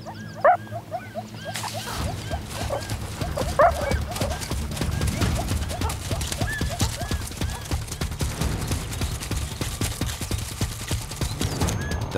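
A meerkat sentry gives its alarm: short, sharp barking chirps repeated a few times, mostly in the first seconds, over steady background music.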